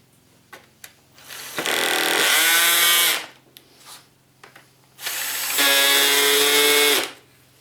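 A power driver on a low torque setting spins a screw into a TSO Power Loc bench connector dog, two loud sustained whirring bursts of about two seconds each, separated by quieter handling knocks.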